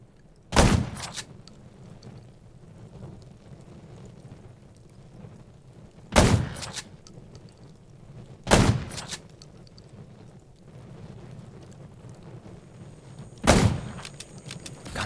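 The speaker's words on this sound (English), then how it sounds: "Gunshots will attract more zombies." Four sharp gunshots in the zombie game Undawn ring out at irregular intervals, each a loud crack with a short tail, over a quiet low rumbling background.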